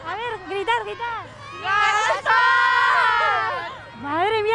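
A crowd of children shouts and screams loudly at the Three Kings parade in Pamplona, with sustained high-pitched cries of a king's name rising and falling over general hubbub and nearby adult voices.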